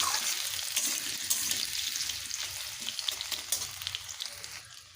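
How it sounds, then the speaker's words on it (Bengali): Peel-on potato pieces fry in hot oil, a continuous bright crackling sizzle with small pops, fairly quiet and steady throughout without any voices. "তেল গরম হয়ে গেছে এবারে আলুগুলোকে ভেজে নেব"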